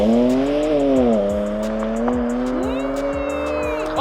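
A car launches from the start line at a drag race, its engine revving hard with rising and falling pitch, tires squealing sharply through the launch, close and loud.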